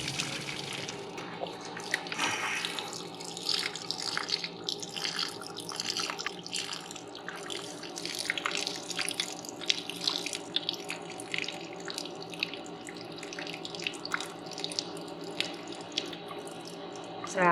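Water runs steadily and continuously while an RV deionizer and water softener is back flushed, with splashing, dribbling texture and faint drips throughout.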